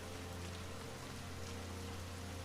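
Steady rain falls on a road in a village, a dense continuous hiss with low rumble, loud and close throughout with no voices.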